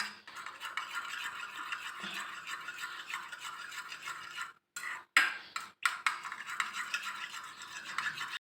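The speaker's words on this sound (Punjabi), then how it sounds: "ਇਹਨੂੰ ਚੰਗੀ ਤਰ੍ਹਾਂ ਹਲਾ ਲਾਂਗੇ ਮਿਕਸ ਕਰਾਂਗੇ" A spoon stirs red food colouring into milk in a cup, giving a steady light rattling and scraping that runs almost continuously, broken by a few short pauses and sharper clinks near the end.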